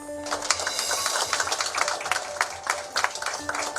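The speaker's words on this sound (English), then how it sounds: "That emotional applause comes to us from Columbia, Missouri" Hospital staff at the VA Medical Center in Columbia, Missouri, lining the hallways and applauding a veteran, with dense, sustained clapping that swells and pulses throughout, loud and close.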